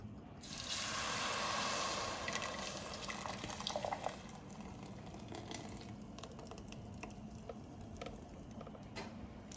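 Chile relleno burrito sauce simmers in a covered pan with a steady bubbling, sizzling sound throughout, with a brief clatter of utensils near the start.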